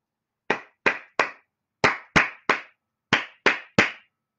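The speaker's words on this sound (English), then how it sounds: "This sound of applause, appreciation, breaking the sound." Nine sharp hand claps from one person, in three groups of three, each crisp and close with a quick decay into silence.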